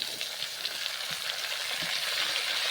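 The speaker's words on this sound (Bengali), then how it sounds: "আলুটা আমার হাফ ভাজা হয়ে গেছে, ওর মধ্যে শসাগুলো দিয়ে ভেজে নেব।" Sliced cucumbers fry with half-fried potatoes in a pan of oil for Bengali cucumber ghonto, giving a steady, dense sizzle with light stirring scrapes throughout.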